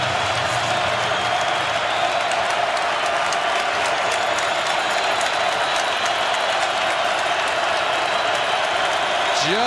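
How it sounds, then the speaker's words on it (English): A packed college football stadium crowd at an FCS quarterfinal in North Dakota roars in a loud, unbroken wall of cheering and noise on third and short, with a commentator talking faintly under it. "And this crowd going to try and turn up the volume here in a 3rd and short situation."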